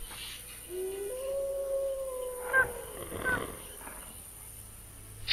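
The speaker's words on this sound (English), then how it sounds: "And I do not like the growling." A creature in The Witcher video game lets out a drawn-out low growling howl with a rising, wavering tone, followed by a couple of short yelping bursts, fairly loud and alone over steady game ambience.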